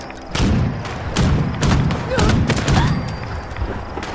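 A heavy gun in the Fallout 76 video game fires a series of deep, thudding shots in a loose, uneven rhythm, loud and close over a busy background.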